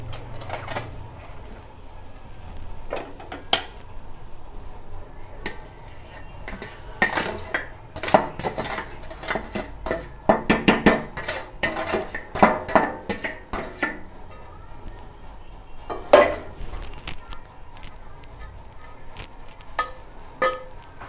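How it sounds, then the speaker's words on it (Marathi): Rice being tipped into a steel pot of vegetable biryani, with clattering spoon and utensil scrapes and metallic clinks, busiest in the middle and then tapering off, close by and without talk. "आणि उरलेला सर्व राईस आपण आता यात टाकूया."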